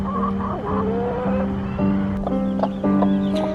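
A broody hen clucks repeatedly in a barnyard, with steady low clucks close by and a few sharper calls over a constant background hum.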